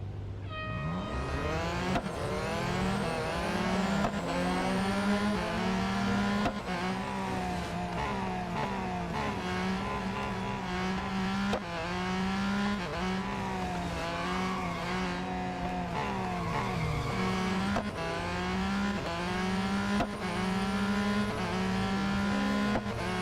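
Race car engines in the mobile racing game Real Racing 3 during a multiplayer event, several engines droning and revving steadily, rising and dropping through gear changes with occasional tire squeal, loud and continuous without talk.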